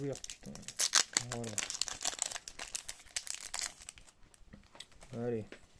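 Crinkly foil wrapper of a Pokémon card booster pack being torn open by hand, repeated rustling and crumpling mixed with ongoing talk from nearby voices.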